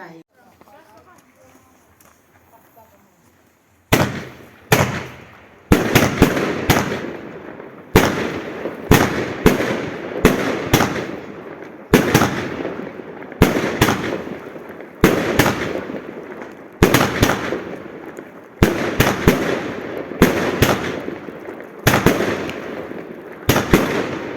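Fireworks set off during a Bayram holiday, a quiet lull followed by a long run of loud, sharp bursts and crackles repeating every second or so, close by, with people talking now and then.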